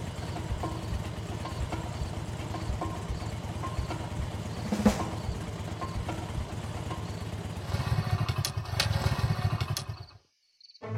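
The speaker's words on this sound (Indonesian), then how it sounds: "Loh, kenapa lagi nih motor? Kok mogok lagi sih?" Motorcycle engine in an animated scene putting along with a rough, steady idle, then revving unevenly and sputtering before cutting out abruptly near the end as it stalls.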